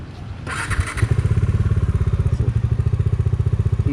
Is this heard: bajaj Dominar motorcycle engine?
yes